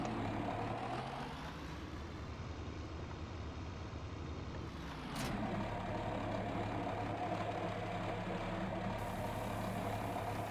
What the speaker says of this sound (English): That's a truck that a friend of mine is currently working on.